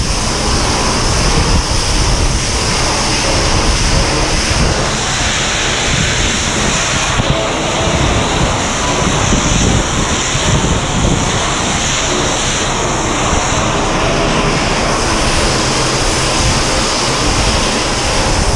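A hot-water pressure hose blasts steadily inside an oilfield vacuum trailer, a loud continuous hissing roar that stays even for the whole stretch, with no talk.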